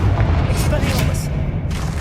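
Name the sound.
Expelliarmus disarming spell being cast in video game Hogwarts Legacy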